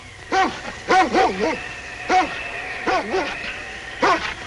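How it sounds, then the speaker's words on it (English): A big husky sled lead dog barks loudly in repeated bursts, some paired and some single, with yelping whines between them, set against a quiet outdoor background. "It's that big lead dog"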